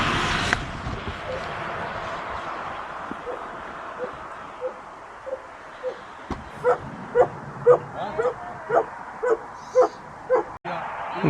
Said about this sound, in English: Apologies about the dogs